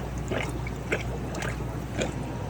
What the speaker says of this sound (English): See how far it's shooting water.